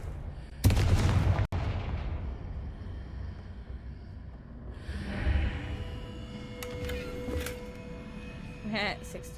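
Confringo fire spell going off in the Hogwarts Legacy video game: one loud, sharp blast that hits hard and trails off in rumbling debris, followed by quieter game ambience and a few softer impacts.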